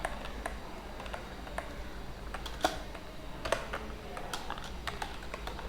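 Quiet, steady typing on a computer keyboard while writing code, with irregular key clicks and a few sharper taps, close and alone without speech.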